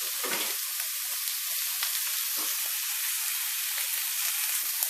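Spare ribs sear in a hot pan for spicy honey ribs, giving a loud, steady, close sizzle that runs unbroken throughout with no voices.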